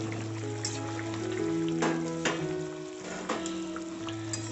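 Egg curry gravy with cauliflower and potato bubbling in a pan, a soft steady simmer with scattered pops and a couple of sharper clinks near the middle, with a faint low hum running underneath.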